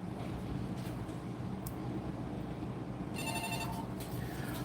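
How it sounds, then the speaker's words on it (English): A telephone rings at a bait and tackle shop, two electronic trilling bursts standing out near the end over steady low background rumble. "the phone's ringing."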